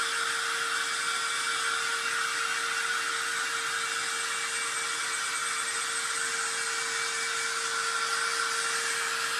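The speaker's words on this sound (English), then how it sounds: "now I'm using the actual blow dryer to make it hotter to do it quicker." A hair dryer blows continuously at a steady pitch, a constant loud whooshing hum with a faint whine, uninterrupted and without talking, used as a heat source during an upcycling craft project.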